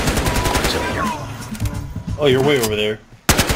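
Gunfire in the video game Battlefield Hardline, a rapid burst of shots at the start under a player's speech, followed by another sharp report after a short pause.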